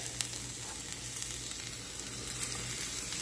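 Onions sizzling in melted butter in a pan for a Thanksgiving dish, a steady, dense crackling hiss that holds evenly throughout, close and moderately loud with a faint low hum beneath and no talking.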